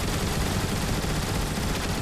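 Dense, continuous gunfire rattles loudly and without pause at a ship in War for Cybertron, a short burst of rapid shots filling the whole moment with no voices.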